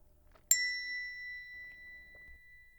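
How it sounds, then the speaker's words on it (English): A dressing bell gives one clear metallic ding in a quiet room, its bright ring decaying slowly over two seconds with faint background rustle. "I think the dressing bell has sounded."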